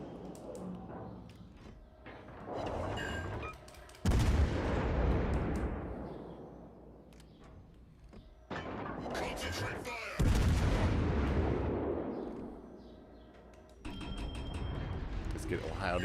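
Heavy naval guns of the battleship Ohio boom in World of Warships combat, several loud blasts with rumbling decay spread across the stretch, mixed with game effects and talk.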